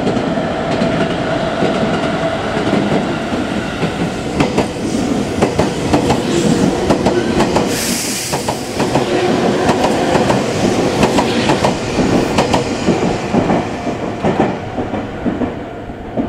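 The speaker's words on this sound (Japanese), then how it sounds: "通過電車です。ご注意ください。" A train passes through Meitetsu Nishi-Biwajima station on the Nagoya main line, a loud continuous rumble with rhythmic wheel clatter over the rails and a brief screech partway through.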